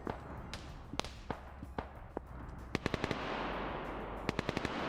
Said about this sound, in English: You can hear the sheer amount of firepower that's now going on to this position.